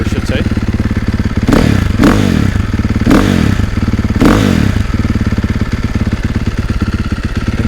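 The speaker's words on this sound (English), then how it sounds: "so now let's go ahead and start it up" A 2023 KTM 450SXF dirt bike with an aftermarket ECU idles loudly and close after start-up, a steady rapid single-cylinder thrum broken by a few sharp blips and clatters.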